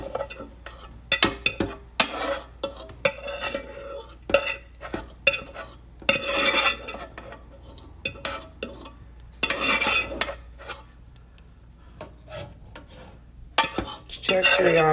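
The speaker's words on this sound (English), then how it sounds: "I'm gonna feel to center my pan into my colander, drain the grease" A pan being tipped and drained of grease into a small colander on a stovetop, with many sharp metallic clinks, scrapes and knocks at close range over a faint background.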